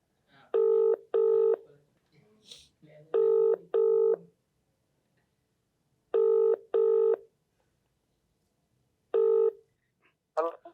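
A telephone call rings out as paired electronic ring tones repeat at regular intervals, clear and close, with brief handling noises in the quiet gaps.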